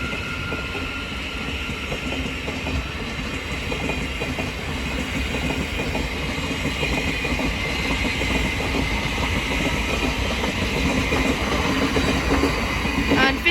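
A Class 700 Thameslink electric train departs Hitchin station on the East Coast Main Line, its traction hum and steady wheel clatter on the rails slowly building in loudness, with a faint station announcement voice underneath.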